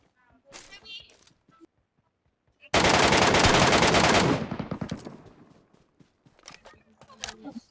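Gunfire in the video game Metro Royale comes as a loud, sustained automatic burst of close rapid shots lasting over a second, while players talk excitedly before and after.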